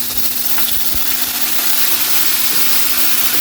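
Marinated pork hitting a hot pan with sautéed onions for a Visayan-style pork dish, a loud continuous sizzle and spatter with a few low knocks, close and steady throughout.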